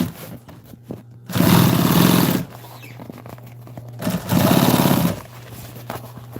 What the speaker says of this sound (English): I'm just gonna sew this one piece right here and the other piece on.